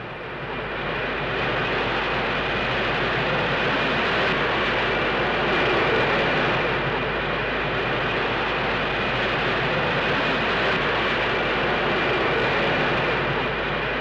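Concorde supersonic airliner accelerating toward transonic speed, a continuous broad engine roar heard steadily throughout, loud and unbroken with no voices.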